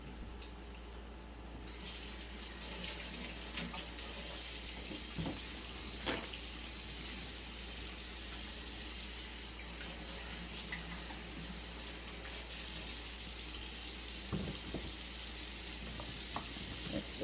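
Zucchini being rinsed under a running kitchen tap, a steady broadband rush of water with occasional clatters and splashes throughout, close and fairly loud, no talking.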